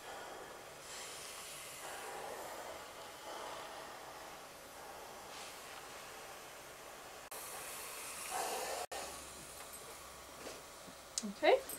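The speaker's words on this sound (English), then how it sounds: "Make sure my iron is heated up to the wool temperature with lots of steam and lots of water." A hot steam iron set to the wool setting and filled with plenty of water hisses in soft, breathy bursts while pressing wool, with a stronger gush of steam late on and faint clicks at the end.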